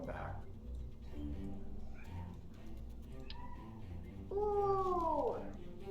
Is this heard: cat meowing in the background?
yes